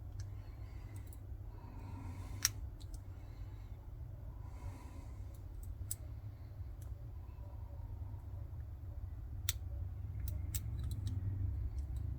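A combination dial clicks sharply as it is turned and set, a few distinct crisp clicks spaced irregularly over a low steady background hum.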